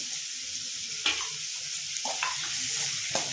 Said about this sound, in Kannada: ಎಲ್ಲ ಫ್ರೈ ಮಾಡ್ಕೊಳ್ತಾ ಇದ್ದೀನಿ